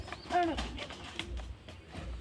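Cheena pigeons give a few soft, low coos at close range with faint rustling and background noise around them.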